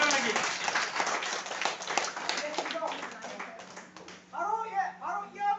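An audience at a lecture bursts into loud, brisk clapping that lasts a few seconds and fades, followed by someone speaking.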